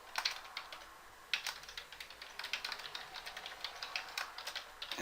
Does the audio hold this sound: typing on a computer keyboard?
yes